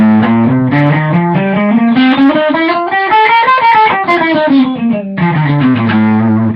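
A distorted electric guitar plays a quick repeating left-hand finger pattern using fingers 1, 2 and 4, skipping the ring finger, climbing up the neck and then descending, each note picked clearly and evenly.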